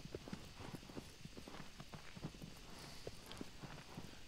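Hooves of Agro, the horse in Shadow of the Colossus, clop in a quick, even gallop rhythm at low volume, with no voices over them.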